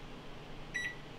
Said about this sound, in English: Hey Google, turn on the microwave for 2 minutes.